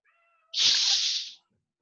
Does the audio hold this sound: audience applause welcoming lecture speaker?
no